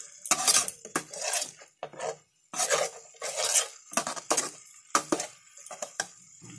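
Masala is stirred and fried in a pan with splashes of water, giving bursts of scraping and sizzling as a metal spoon works it, loud and close, with pauses between strokes.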